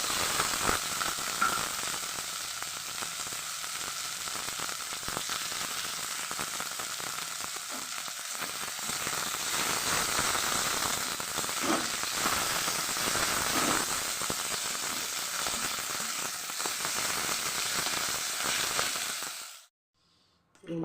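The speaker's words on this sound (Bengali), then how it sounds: "শাক ভাজা, দুটো শুকনো লঙ্কা ফোড়ন দিয়ে দিলাম" Leafy greens fry in hot oil with two dried red chillies tempered in, giving a steady, dense sizzle with light stirring for about twenty seconds before cutting off abruptly at the end.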